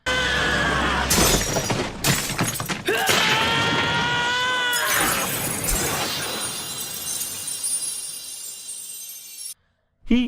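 Clothes bursting apart in an anime scene, heard as a loud crash of shattering glass with scattered breaking fragments over music, fading for several seconds before a brief silence and a final sharp hit.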